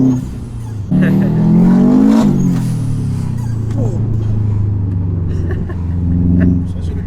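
A Subaru WRX Impreza with stage 3 tuning and over 350 hp revs sharply, its engine note rising to a loud peak, easing back, then settling into a deep rumbling idle with a second smaller blip near the end.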